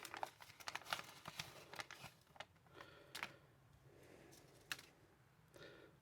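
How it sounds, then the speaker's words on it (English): Wax paper crinkles and rustles in a run of sharp, close crackles as it is unwrapped from a new Great Eastern Cutlery pocketknife with nickel silver bolsters and brass liners, the bursts quieting toward the end. "wax paper."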